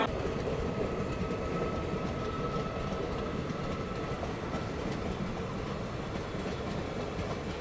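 A passenger train running at night after leaving Jalgaon railway station in heavy monsoon weather gives a continuous dense rumble and rattle of wheels and carriages, steady and unbroken, heard from inside with no voices.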